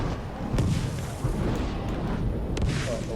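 Booming explosions from the video game Shadow of War, several rumbling blasts in a dense continuous battle mix with sharp bursts near the start and end.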